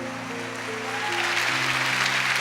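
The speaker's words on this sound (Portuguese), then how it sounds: "pode aplaudir, é muito bom" Church congregation applauding during a sermon, a dense, sustained clapping that swells slightly as it goes on, with some voices mixed in.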